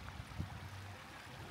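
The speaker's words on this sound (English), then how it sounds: "nice bobbling brook" A babbling brook along the River Etive pass flows with a faint, steady watery rush throughout.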